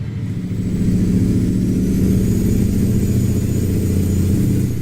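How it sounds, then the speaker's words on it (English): The V8 engine of a multi-trailer road train truck drones steadily and loud from up close, a deep rumbling hum that holds nearly constant throughout, with no voices. "It's the V8, the almighty V8 engine sound."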